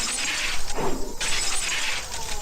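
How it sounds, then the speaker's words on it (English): Glass windows shattering in the video game Higurashi When They Cry: Tatarigoroshi, a loud sustained crash of breaking panes with scattered tinkling debris and a brief duller impact in the middle. "I smashed all the glass windows too,"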